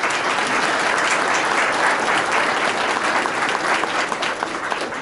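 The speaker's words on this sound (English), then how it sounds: "Let's give them a round of applause." Audience at a high school athletic hall of fame dinner ceremony applauds the kitchen staff and cooks, a dense, sustained round of clapping from a full room, steady and loud with no talk over it.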